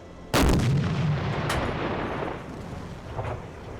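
A submarine deck gun fires a shell in Silent Hunter 4: Wolves of the Pacific, a single loud, booming blast followed by a long rumbling decay, with a fainter second report shortly after.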